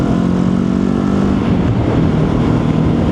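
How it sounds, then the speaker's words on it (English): Benelli TRK 702 motorcycle with its standard exhaust accelerating in third gear, giving a steady, deep, throaty engine drone that stays loud and continuous throughout. "I don't know if you can hear it, but it's quite a nice deep throaty sound"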